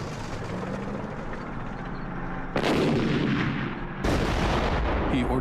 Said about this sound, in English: He orders his artillery to make the earth shake.